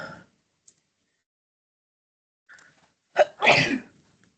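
A single sharp sneeze bursts out in a quiet room, preceded by a soft intake and brief faint sounds, then silence after.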